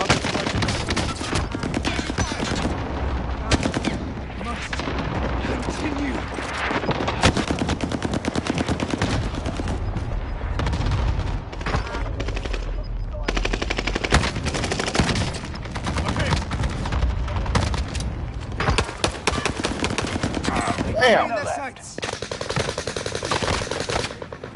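A video game battle fills the scene with dense, loud bursts of machine-gun fire and heavy airstrike blasts, the barrage running continuously with brief lulls, while voices are faintly heard beneath it.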